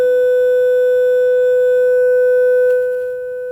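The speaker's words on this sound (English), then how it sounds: "it is a 500 hertz sine wave what it is getting played" Steady 500 hertz sine wave test tone in a lab demonstration of an IIR filter resonator, a single loud pure pitch held continuously and then dropping slightly in level near the end.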